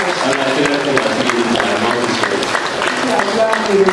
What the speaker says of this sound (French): Acclamons le Seigneur pour ce beau message.